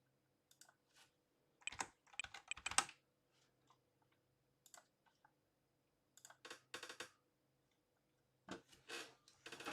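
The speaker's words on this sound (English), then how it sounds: "I slap the keyboard a bunch of times" A computer keyboard is typed on in quick, irregular bursts of clicky keystrokes, close and fairly quiet, separated by short silent gaps, with no talking.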